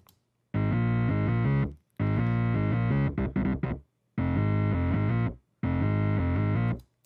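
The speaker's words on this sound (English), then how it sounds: "Now let's add this distortion and see what happens." A heavily distorted bass plays four sustained, gritty notes with short gaps between them, with a quick stuttering run in the second phrase, loud and close.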